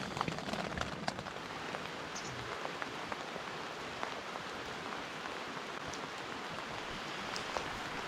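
Rain falls steadily on a village in Kyrgyzstan, a soft, even hiss of drops pattering on surfaces with scattered sharper taps, heard alone at a moderate distance.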